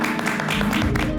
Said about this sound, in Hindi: त्रिशा के लिए तालियां बजाओ